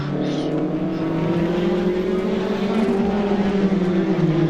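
Praga R1 and Ginetta GT5 race cars at V.I.R., a steady engine drone with a rising pitch as the cars run close together in the slipstream, continuous and fairly loud throughout.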